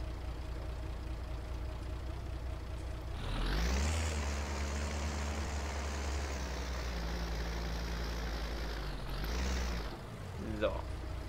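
A loud vehicle engine with a worn exhaust in Landwirtschafts-Simulator 19, idling low before swelling into a heavy, steady roar for several seconds, then dropping back and surging briefly once more.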